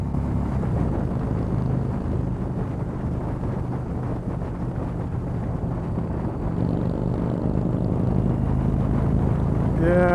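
A 2019 Indian Springfield Dark Horse 111 motorcycle ridden hard in sport mode: heavy wind rush buffets the microphone over the engine, and the engine note climbs sharply near the end.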